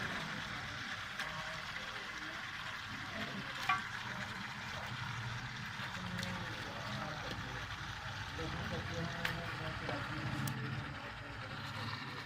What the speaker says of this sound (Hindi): एक साथ ही सब भूनता रहेगा।